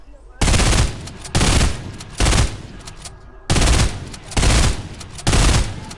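A video game gun with a burst-fire glitch shoots six loud, close reports at a steady clip, in two runs of three with a short gap between them.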